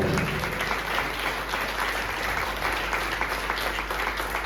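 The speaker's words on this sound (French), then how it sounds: "Je vous demande de les applaudir bien fort tous les 3." Dense, continuous applause from a crowd fills a political campaign meeting, a steady roar of many hands clapping without pause or audible speech.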